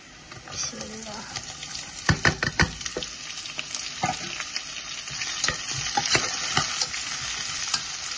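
Onions tossed into hot oil with browned garlic for a Bangladeshi greens dish hiss and crackle close by, with sharp spoon scrapes and clatter against the pan, and brief talk underneath.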